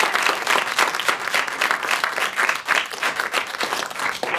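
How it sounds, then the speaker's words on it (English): Audience applause fills a K-12 education event, a dense, steady patter of many hands clapping close by, with no talk over it for about four seconds. "We'll give you a round of applause from Washington."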